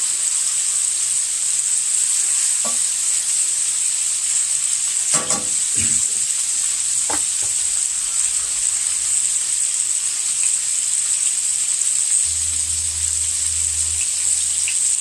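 Pot roast meat searing in a hot pan, giving a constant high hiss of frying with a few clunks and scrapes of handling partway through, heard close and loud without talk.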